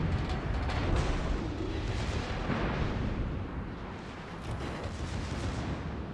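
Heavy battleship guns in World of Warships firing a salvo, a dense rumbling roar of overlapping booms that fills the whole span, loud and sustained without clear gaps.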